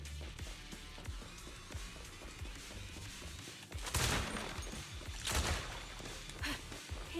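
Sniper gunfire from the video game Zenless Zone Zero, heard quite faintly under game ambience, with two sharp, crashing shots standing out a second or so apart amid low rumbling effects.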